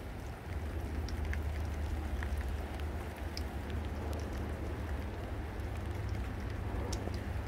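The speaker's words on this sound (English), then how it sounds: "Kind of raining" Steady rain falling outdoors in Seattle at dusk, a soft continuous patter with a low rumble beneath and no speech.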